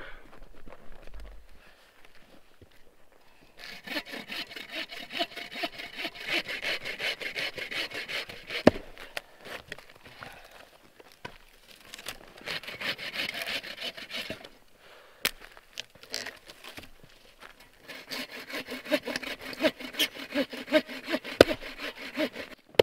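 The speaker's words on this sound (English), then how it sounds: "There's nothing better than sawing into some super dense maple on a cold day." Hand sawing through dense maple firewood outdoors on a cold winter day, a close, steady back-and-forth rasp of the blade in long rhythmic bursts separated by short pauses, with no talking.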